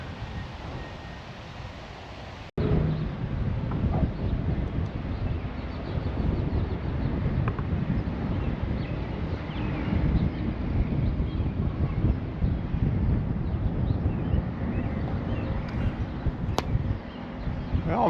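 Strong wind blows steadily at a trail lookout along the Cardinal Greenway in Indiana, a loud, continuous rushing buffet against the microphone with no speech.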